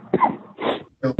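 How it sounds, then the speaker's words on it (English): Several harsh coughs from a person with COVID in quick succession, close to the microphone, with brief pauses between bursts and no talking. "I'm sorry about the cough"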